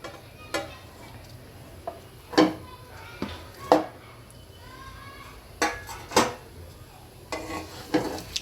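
A spoon knocks and scrapes against a pan as dates are stirred in hot ghee, giving irregular clinks and scraping strokes over a faint sizzle, while someone talks.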